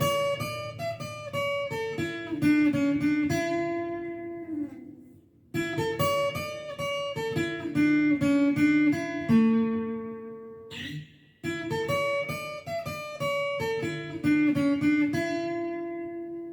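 Acoustic guitar plays a lead line, a bright, quick run of picked notes repeated in three similar phrases separated by short pauses, solo and close with no talking.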